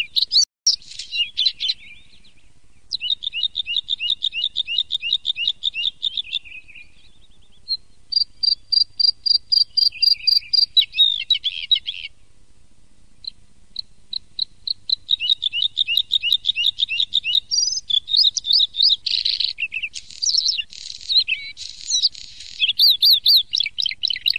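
A bluethroat sings a long, varied, melodious song of rapid trills, buzzy phrases and repeated chirps, loud and close, with only short pauses between bursts.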